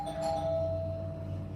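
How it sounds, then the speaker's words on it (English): A doorbell chimes once, a bright sustained electronic ding-dong tone ringing out clearly and fading slowly, indoors with no talking. "Ding dong."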